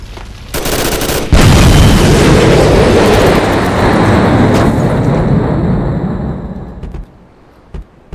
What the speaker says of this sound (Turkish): Aracı bir kere patladı.